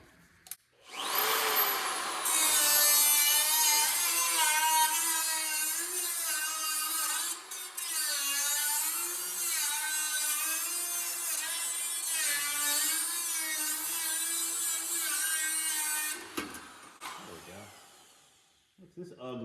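A whining power cutting tool trims the top of a fabricated firewall on a 1958 Plymouth, a loud sustained high-pitched grind with wavering pitch under load for about fifteen seconds before spinning down.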